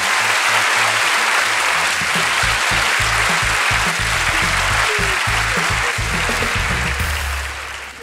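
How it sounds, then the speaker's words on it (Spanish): Studio audience applause on a comedy show, a loud and dense wash of clapping that holds steady for about seven seconds before fading, with a low rhythmic musical pulse underneath. "¡Fuerte aplauso!"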